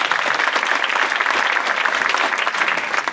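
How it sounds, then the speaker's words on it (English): Sustained applause from the audience at a 2013 mayoral candidate forum, a dense even wash of many hands clapping for the moderator, fairly loud and steady throughout with no voices on top. "Let's give our moderator a round of applause."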